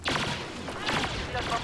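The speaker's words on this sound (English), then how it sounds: "Stop shooting, this is pointless." Rapid blaster fire in a Star Wars Battlefront Walker Assault multiplayer match, dense bursts of shots crackling close and loud, with a voice talking over them.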